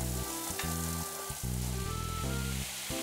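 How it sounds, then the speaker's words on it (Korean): Meat sizzles and fries loudly in a pan on a grill, a steady dense crackle throughout with low stirring or scraping sounds shifting underneath, close and continuous with no talking. "제가 옆에서 구울게요. 두 개로 구워야 될 것 같은데."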